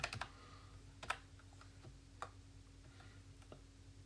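Someone types a password on a computer keyboard while signing in to Google Classroom. There are a few soft, scattered keystrokes, close but faint, in an otherwise quiet room.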